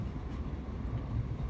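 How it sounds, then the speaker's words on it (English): Inside a moving passenger train in England, a steady low rumble of the carriage with faint rail clatter, continuous and fairly loud, no one speaking. "I'm on the last train"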